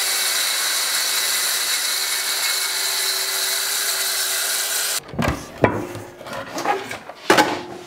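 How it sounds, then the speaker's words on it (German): A power saw cuts into a solid oak plank during furniture making, a steady loud whine for about five seconds, then cuts off into sharp wood knocks, rubs and handling clatter of the plank. "Wir müssen die Bohle jetzt einmal umdrehen, weil die Säge nur 55 mm tief sägen kann."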